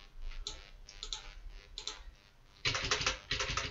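Computer keyboard keys clatter in quick bursts of typing and clicking, close and fairly quiet, with a denser flurry of keystrokes toward the end and no talk.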